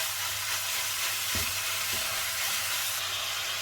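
Mince meat fries and sizzles steadily in a pan as it is pressed and stirred, a constant broadband hiss with a few soft scraping knocks from the utensil and no talking.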